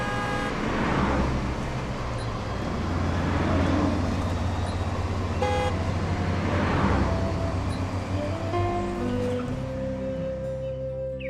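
Heavy road traffic rumbles past continuously, engines swelling and fading as vehicles go by, with a brief rising whine near the end.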